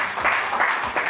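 A studio audience on a French radio show gives a brief, steady burst of applause for a caller, a dense wash of clapping with no talk over it.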